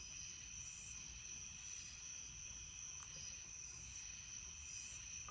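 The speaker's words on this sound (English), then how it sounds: "A bunch of crickets that you can probably hear right now" A bunch of crickets chirping outdoors at night, a steady continuous high-pitched trill that is moderately loud and close, with no talk.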